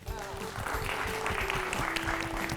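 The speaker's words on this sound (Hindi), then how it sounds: "तालियां." Studio audience applause in a Hindi classroom quiz show, a dense steady patter of clapping lasting a few seconds with a faint tonal hum underneath.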